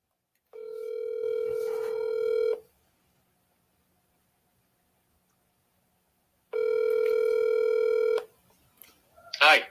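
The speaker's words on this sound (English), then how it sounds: "Let's get him on the phone." Telephone dialing tones for an outgoing call, two sustained bursts of stacked tones separated by a silent pause, then a short rising chirp at the end; clear and close, no talking.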